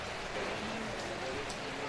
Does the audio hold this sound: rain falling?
yes